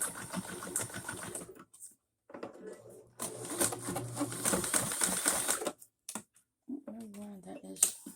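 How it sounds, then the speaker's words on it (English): An older sewing machine stitches a pillow with rapid mechanical chattering in bursts that start and stop, with a person talking over and between the runs. "This one is an older sewing machine"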